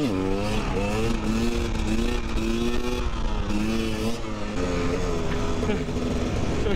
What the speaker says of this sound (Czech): To je moje motorka, kurva!